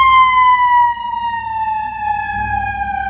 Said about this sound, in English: we'll film these while we're waiting for this ambulance to go by. See, we got sirens